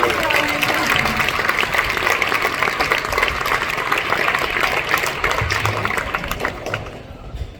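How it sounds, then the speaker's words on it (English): Concert audience at a spring choir concert claps for the accompanist, a full, continuous round of applause that tapers off slightly at the end, with some voices mixed in. "Also get a round of applause for the choir's accompanist, Mr. Chan."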